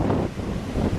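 Wind buffets the microphone on a small headland at the edge of Emily Bay, Norfolk Island, a steady low rumbling gust with faint surf-like wash beneath, constant for about a second with no voices.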